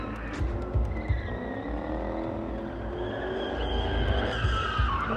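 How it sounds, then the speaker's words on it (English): Car drifting nearby, tires squealing and skidding in a long, wavering screech over engine roar that rises and falls. "He's just trying to do some drifts."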